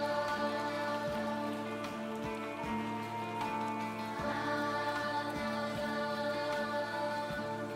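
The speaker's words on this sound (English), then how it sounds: "And the rain and fog is moving in over the town already." Steady rain falls over a foggy town in the video game Silent Hill f, a constant soft patter of drops heard close, blended with a sustained tonal music bed underneath.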